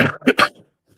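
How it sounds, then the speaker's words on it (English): A person coughs a few times in quick succession, close and fairly loud, followed by a faint breath or sniff. "Sorry with this sniffing and coughing."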